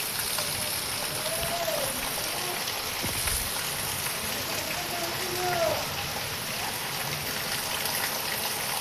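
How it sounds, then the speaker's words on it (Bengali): Heavy rain pours steadily on a stormy day ahead of an expected cyclone, a dense continuous hiss filling the background with faint scattered sounds over it. "প্রচুর বৃষ্টি পড়তেছে আজকে।"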